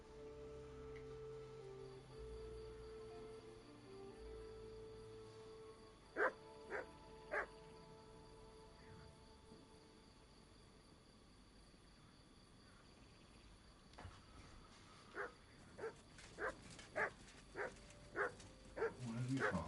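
A dog barks in the medieval open-world game Kingdom Come Deliverance 2. A few sharp barks come near the middle, then a quicker run of barks near the end, over a steady bed of crickets and ambient game sound.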